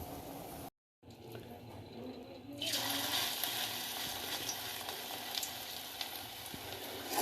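Battered fritters frying in hot oil, a steady dense sizzle that swells louder partway through and carries on without talk.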